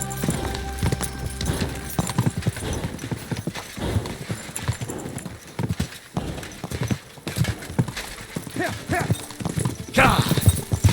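Horse hooves clip-clopping at a quick ride in the video game Kingdom Come: Deliverance II, a steady rhythmic beat up close with occasional whinnies, under a rider's shouted urging and game ambience.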